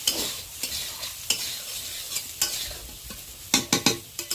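Soybean chunks frying in hot oil with turmeric and salt, a soft continuous sizzle broken by repeated sharp scrapes of a spatula, clustering into quick strokes toward the end.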